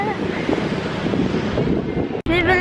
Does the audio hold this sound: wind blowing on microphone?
yes